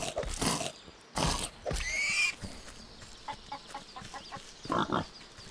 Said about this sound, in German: Macht sich das Wildschwein schon bemerkbar von weitem.